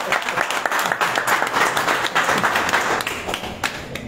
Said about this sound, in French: On peut applaudir ça, non?